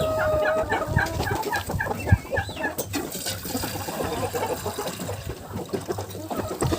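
A broody hen clucks repeatedly while her chicks peep in a high, rapid chorus around her, outdoors in a vegetable garden, with a trickle of water and scattered farmyard noise behind them.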